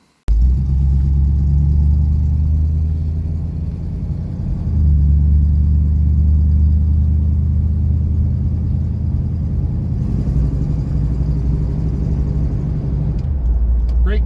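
A dusty 1965 Buick Riviera on its maiden drive after restoration, its engine rumbling steadily with a low drone and a brief easing off midway, the cabin noise continuous and close throughout.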